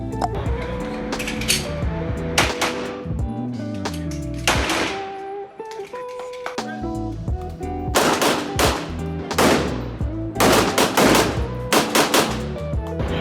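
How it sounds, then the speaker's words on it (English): Guns linked to John Wick being test fired: rapid bursts and single loud gunshots, close and sharp, with metallic clinks and pauses between volleys. "So enjoy the shooting clips."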